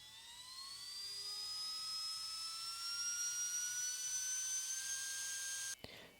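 A cordless rotary tool, Dremel or Milwaukee, spins at high speed with a thin steady whine climbing slightly in pitch as it runs up, then cuts off abruptly with a brief click near the end.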